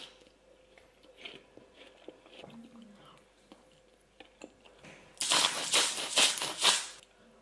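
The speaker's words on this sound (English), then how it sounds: "Let's eat some watermelon." Someone bites and chews watermelon up close, with quiet soft mouth sounds early on, then a burst of loud wet crunchy bites and chewing near the end.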